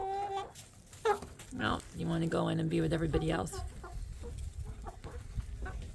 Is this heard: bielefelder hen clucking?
yes